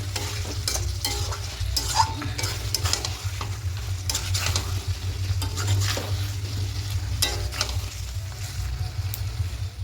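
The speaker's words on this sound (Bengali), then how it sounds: "ভালো করে কষিয়ে নিচ্ছি" Chicken masala sautéed on high heat in a pan, stirred steadily with a spatula so it scrapes and clatters over a constant close sizzle and low hum, with no talking.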